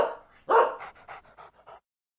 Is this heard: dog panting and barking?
yes